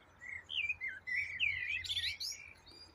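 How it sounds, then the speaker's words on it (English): A wren sings a rapid, bright run of trills and chirps near a quiet former railway walking path, with the song climbing into a busy flourish before stopping, over faint background hush. "Sounds like a wren."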